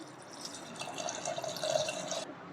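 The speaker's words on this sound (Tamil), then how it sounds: "குடல் மூழ்கிற அளவு மட்டும் நம்ம தண்ணி சேர்த்துக்கலாம்" Water runs into a pressure cooker over goat intestines, a steady close trickle and splash lasting about two seconds before cutting off, with no talking.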